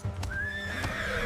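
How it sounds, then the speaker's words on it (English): A war horse in royal stables gives a short, close neigh, a rising then falling whinny with a faint hoof knock at the start. "In the royal stables, magnificent war horses are groomed, and their coats brushed until they shine."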